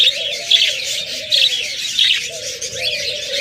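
Budgerigars in a bird seller's cage chirp and twitter in quick, overlapping bursts, close and lively, with a soft warbling undertone running between the sharper calls.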